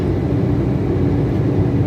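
An airplane climbs after takeoff from a Netherlands airport, a loud, steady broadband roar heard close from inside the cabin, with no talk.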